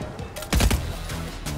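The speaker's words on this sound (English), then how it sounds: "They're shooting through the tree." Video-game gunfire in Fortnite, with shots fired through a tree: a loud, sharp burst of shots stands out near the start, and lighter shooting continues over a busy background.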